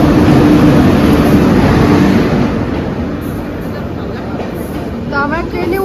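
A train rumbles loudly and steadily at a busy railway station, easing somewhat midway, with voices and other station noise mixed in.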